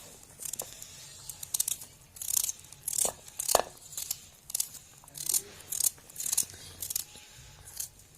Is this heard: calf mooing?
no